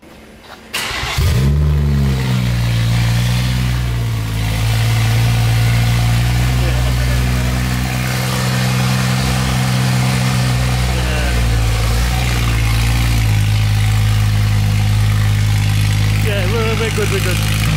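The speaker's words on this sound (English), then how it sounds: "we're gonna turn the car on with just an open downpipe because I want to just know what it sounds like" A BMW M140i with a 4.5-inch decat open downpipe and no exhaust fitted fires up abruptly, then settles into a very loud, booming, raspy idle that continues steadily, close to the car.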